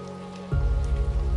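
Steady rain falls outside a cabin in the pines, a continuous soft wash that swells louder partway through, with a low rumble underneath and no voices.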